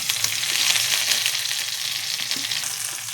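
Onion and curry leaves fry in hot oil with mustard seeds for a tomato chutney, a loud continuous close-up sizzle and crackle with bright spitting hiss and occasional stirring.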